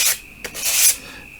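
Sandpaper rasps across cork trim at the edge of a small DIY frame for a dog painting, in a few scratchy back-and-forth strokes with a short pause between them.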